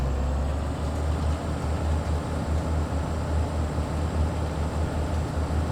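A Class 150 diesel multiple unit rumbles along in Train Sim World 5 on the Cardiff City Network, a steady low engine drone with rail noise, continuous and fairly loud with no talk.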